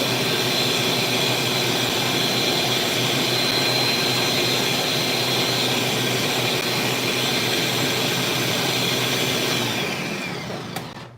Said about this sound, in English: I really just cut them like this because my blender is strong and I break it up